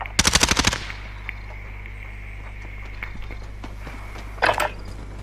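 Gunfire in the video game Warzone: a sharp, loud burst of rapid automatic shots opens, followed by a quieter hum and a shorter second burst near the end.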